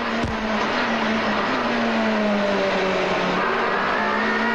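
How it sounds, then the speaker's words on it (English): A 1992 race car engine at full power drones at high, steady revs on the Wellington street circuit, its whining tone holding loud and constant with a brief shift midway. "Listen to the little car singing its song at Wellington."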